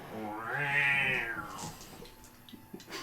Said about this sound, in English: It's fine, just a cat.